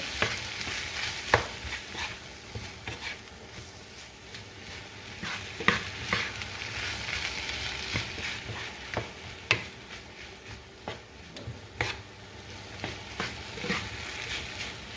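Rice being stirred in a pan with sweet corn and green peas, a steady sizzling fry under repeated scraping strokes of a spoon against the pan, with no voices.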